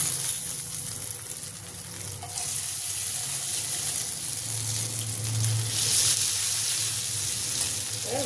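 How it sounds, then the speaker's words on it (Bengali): Dhoka, lentil cakes, frying in hot oil: a steady broadband sizzle runs throughout at moderate level, with faint clinks and some rising bubbling late in the clip, and no voices. "ধোকাটা আমি এবার ভেজে নেব তেলে।"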